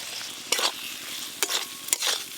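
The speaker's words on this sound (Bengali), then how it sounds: "মশলার সাথে টমেটোর টুকরোগুলো বেশ ভালো করে নেড়ে নিয়েছি" Tomato pieces are stirred in spice paste frying in a pan, a soft steady sizzle broken by three sharp scraping strokes of the spoon, close and without talk.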